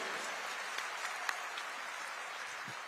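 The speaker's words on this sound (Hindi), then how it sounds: "एक बार जोरदार अभिनंदन चाहूं ताली के गड़गड़ ध्वनि में" Applause from a crowd at a fishermen's community gathering in Raigarh, a steady even patter of many hands clapping at a distance, moderately faint.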